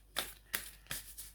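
Homemade paper keyword cards are shuffled close up in three quick, crisp riffling bursts, each with a short papery tail, in a quiet room with no talk.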